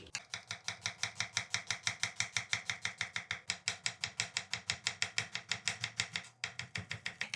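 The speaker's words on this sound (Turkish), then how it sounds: "Soğanımızı da ince ince doğruyoruz." A knife chops onion finely on a cutting board, a steady rapid run of crisp, close knocks with a brief pause near the end and no talk.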